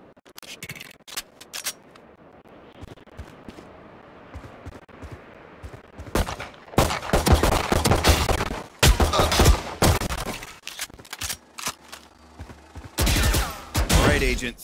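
Gunfire at targets and bots in the VALORANT tutorial range: a quiet stretch of faint scraping, then a run of loud, sharp shot bursts in quick clusters, with a final volley near the end.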